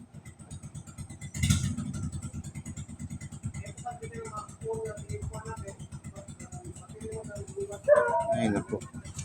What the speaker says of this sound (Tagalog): Ito yung mga open pipe na muffler ba, no? Maingay.